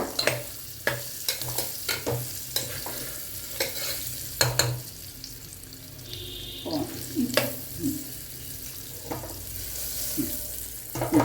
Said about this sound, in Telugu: దొండకాయ ముక్కలు ఇవి వేసుకుని ఒక్క నిమిషం వేగనిచ్చి